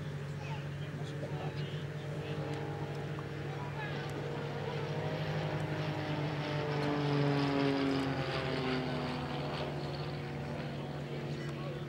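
A Grob Tutor two-seat propeller training aircraft in a flying display at Plymouth Hoe during Armed Forces Day, with a steady droning engine hum that swells slightly toward the end.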